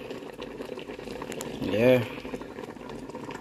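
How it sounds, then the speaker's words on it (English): Water boils in a pan of steamed fish cooking with white rice, a low bubbling churn under a voice, swelling briefly louder midway. "Boiling."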